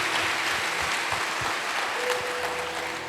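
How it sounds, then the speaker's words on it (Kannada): A church audience applauds its leaders, a sustained steady wash of clapping from many hands that holds throughout, with a faint tone in the background. "ಎಲ್ಲ ನಮ್ಮ ಲೀಡರ್ಸ್ಗಳಿಗೆ ಒಂದು ಚಪ್ಪಾಳೆಯನ್ನು ತಟ್ಟಿದೆ"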